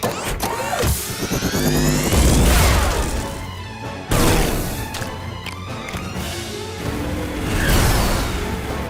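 A cartoon rocket mode activating and blasting off in an animated chase, a loud layered burst of whooshing, rumbling thrust and crashing effects that surges, dips briefly midway, then roars again.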